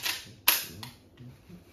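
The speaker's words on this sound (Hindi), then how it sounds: "शॉट गन भाई जो है" A shotgun fired at an outdoor gun range in Latvia, one sharp crack followed by a short echo and a fainter second report, with no talk.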